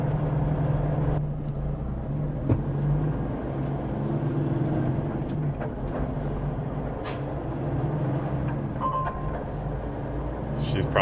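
A semi truck engine runs steadily with a low, continuous rumble and a few faint clanks, with voices murmuring in the background.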